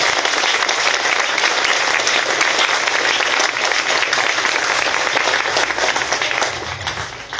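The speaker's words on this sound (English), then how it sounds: "That's an applause, man." Sustained applause from an audience at a DigiPen Institute of Technology ceremony, a dense, even wash of clapping that holds steady and thins slightly at the end, with no voices over it.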